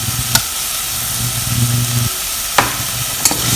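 Onion, green chutney and tomato pieces cook in a pan for street-style ragada cutlets, a loud steady sizzle broken by three sharp spatula clanks, a low hum running beneath, no talking.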